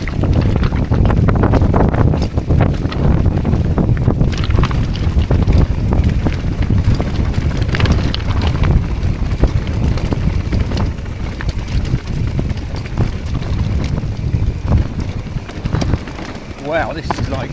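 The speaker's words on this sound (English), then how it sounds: "one hell of a headwind." Strong headwind roars across the microphone during a cycling descent of a mountain ridge gap in the Brecon Beacons, a loud, continuous buffeting rumble that persists throughout.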